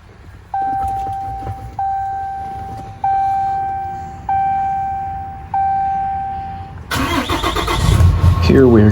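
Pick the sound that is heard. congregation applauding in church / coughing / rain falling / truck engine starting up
truck engine starting up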